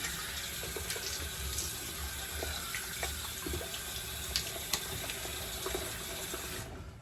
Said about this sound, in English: let's rinse off here.